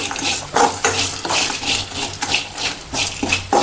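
Nati-style chicken curry ingredients fry in a pan over a low gas flame, a soft sizzle broken by repeated rhythmic scrapes and clinks of a utensil stirring against the pan, close by and without voices.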